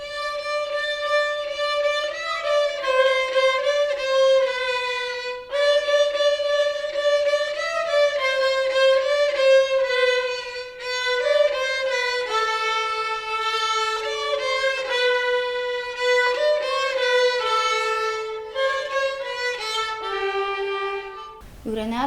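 A kaval flute plays a Gagauz folk melody solo, a bright breathy tone weaving through sustained and ornamented notes with short pauses between phrases, close and clear with no talking.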